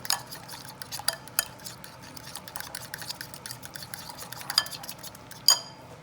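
A utensil scrapes and taps around a bowl as olive oil is mixed into Wagyu burger ingredients, irregular close clinks and stirring scrapes with a sharper knock near the end.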